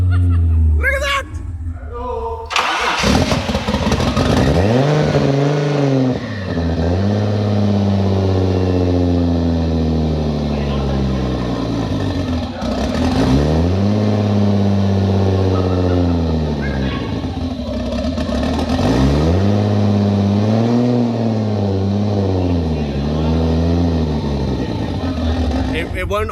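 An old Mk3 Toyota Supra engine being started and set up fires, sags and burbles as the idle drops, then rises in repeated throttle blips and falls back. Loud and close, with people talking and chuckling over it.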